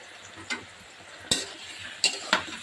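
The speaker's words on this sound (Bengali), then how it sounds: "মাছ ভাজতে দিয়ে দিয়েছি" Fish frying in a pan with a steady soft sizzle, broken by a few sharp clinks and scrapes of a utensil against the pan.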